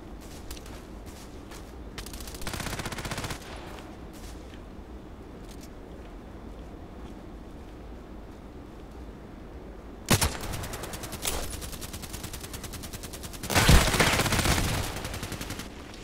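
Assault rifle fire in the online shooter Contract Wars: short loud bursts of automatic shots in separate volleys, with quieter distant shots and faint game ambience in between.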